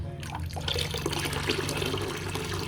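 Liquid made from mangosteen peel and rice water being poured off, a steady close splashing stream that runs throughout with no talk.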